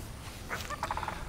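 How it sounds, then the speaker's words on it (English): Loud birds calling outdoors, a burst of rapid, gobbling calls rising partway through and rattling off in quick succession nearby, with no talk. "Those birds are so loud."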